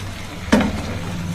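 A spoon stirs gongura (sorrel leaf) chicken curry in a pan, giving a single short scrape and clatter against a quiet, steady background.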